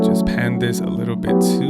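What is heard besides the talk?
None of the usual background noises is heard.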